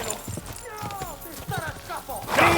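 Horse hooves clip-clop at a gallop in the medieval game Kingdom Come Deliverance 2, rhythmic thuds beneath a man's urging speech and a brief whinny-like burst at the end.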